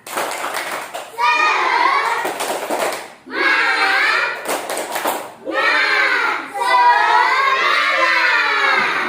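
Primary schoolchildren in an Indonesian classroom do a rhythmic clapping chant, with loud bursts of patterned claps mixed with their chanted voices in several phrases.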